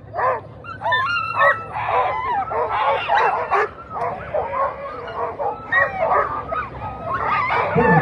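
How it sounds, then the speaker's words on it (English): Many sled dogs at a race start barking and yipping in eager, overlapping bursts, loud and close, with occasional whines mixed into the clamor. "Let's look at these wheel dogs."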